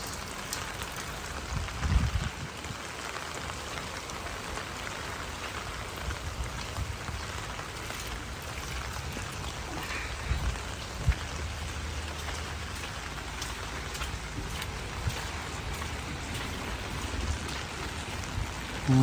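Soft, steady patter of light rain falling on surfaces, even and continuous with no voices, occasional slightly louder drops.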